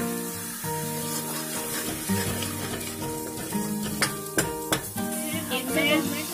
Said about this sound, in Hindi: अब मैं इसमें अपनी पिसी हुई प्याज ऐड कर रही हूँ। प्याज मेरी डल चुकी है। मैं इनको सुनहरा होने तक अच्छे से भूनूंगी।